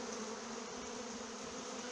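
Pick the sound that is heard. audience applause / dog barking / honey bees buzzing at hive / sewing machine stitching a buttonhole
honey bees buzzing at hive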